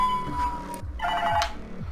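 A phone rings with a tonal ringtone melody, fairly close and clear, repeating over about two seconds before stopping.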